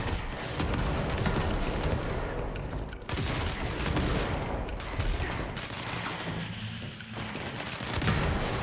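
Video game combat with huge explosions and heavy gunfire, a dense continuous barrage of blasts and shots that stays loud throughout with brief dips, no talk.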